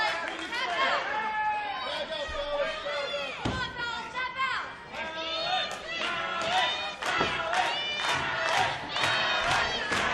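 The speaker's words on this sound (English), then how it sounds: "Crowd coming alive for Andrew Palace." Wrestling crowd cheering and yelling at a live match, loud sustained roar with rhythmic shouts, under continuous commentary talk.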